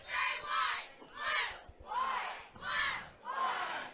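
High school cheerleaders and a visiting crowd cheer at a playoff football game, rising in five loud, rhythmic bursts of shouted chant close by, each swell separated by brief lulls.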